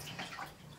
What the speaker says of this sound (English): I like pouring. Be careful, I don't want water all over.